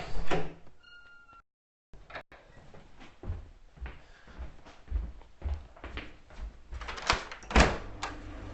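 Door opened to answer a visitor, with soft clunks, handle rattles and sliding sounds from nearby and close handling thumps toward the end.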